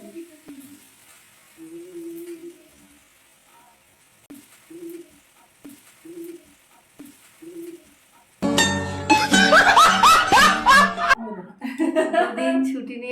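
Shrimp fry in a pan in a Bengali home kitchen. Soft voices talk at first, then a loud, crackling sizzle bursts in and continues near and strong.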